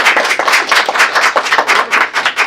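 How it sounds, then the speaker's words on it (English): Hand clapping at a student council meeting, a rapid, uneven run of individual claps at close range, fairly loud and without a clear slow build. "I'm just going to do a slow clap into a large clap"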